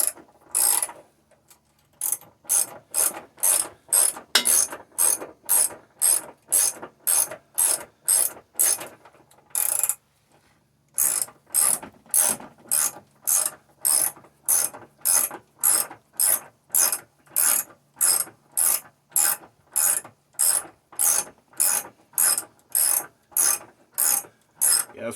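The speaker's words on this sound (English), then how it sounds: "I'm going to go ahead and just use the ratchet here" A hand ratchet tightens flange bolts on the rear flexible subframe brace of a Subaru WRX STI S209. It makes a long run of rapid, evenly spaced clicks in close bursts, with one brief pause partway through.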